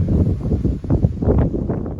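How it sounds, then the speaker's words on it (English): Gusty wind buffets the microphone, a continuous low rumble that swells and dips over a couple of seconds. "A bit windy out here now today."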